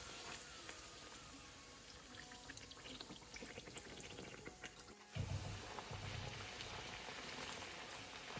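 Raj kachori deep frying in hot oil, a quiet steady crackling sizzle throughout, with a brief clunk and splash midway as one puri is lifted out and another is dropped in.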